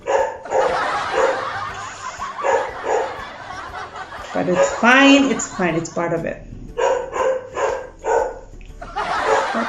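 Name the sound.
dogs barking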